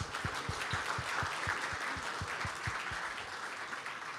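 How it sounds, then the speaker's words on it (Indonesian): Sustained applause from a large audience after a speech by Ganjar at a CSIS event in Indonesia, dense steady clapping filling the whole stretch with no voices over it. "Mari kita kasih aplaus yang besar kepada Ganjar."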